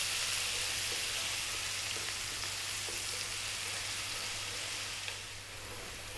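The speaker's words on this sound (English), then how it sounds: "We're now going to go in with our onion. We're on quite a high heat." Onion dropped into hot oil over high heat for an egg dal, heard as a steady, loud, close sizzle and crackle of frying that holds evenly and eases slightly near the end, with no talk.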